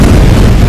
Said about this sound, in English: Oh, I just bombed the whole Navy airport.